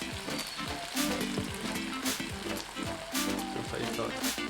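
Soy sauce hits a hot pan of sardine bihon noodles and sizzles steadily and loudly, with crackling bursts and occasional stirring scrapes; a voice speaks briefly underneath.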